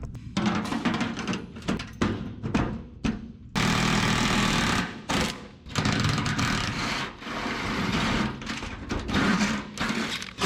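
An impact wrench or ratchet on a 1976 GMC rattles in loud, close bursts, working 9/16 bolts out of the fenderwell, with short pauses between runs and one longer continuous stretch.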